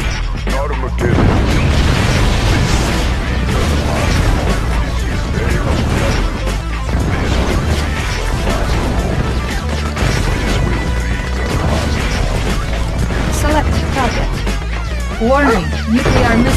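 A nuclear missile detonates in Red Alert 2 amid a dense, loud barrage of booms, crashes and bursts that rumble continuously, with bits of game voice announcements mixed in.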